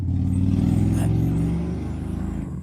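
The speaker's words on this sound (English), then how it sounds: "somebody's going by with a stupid motorcycle" A loud motorcycle engine drones steadily nearby as it passes, then fades slightly toward the end.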